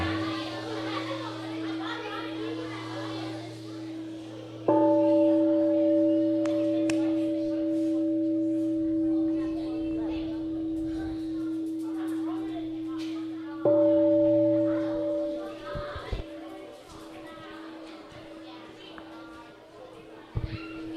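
A meditation bell rings three times with long, sustained tones, each strike fading slowly under a murmur of children's voices in the background, at a summer retreat's morning gathering.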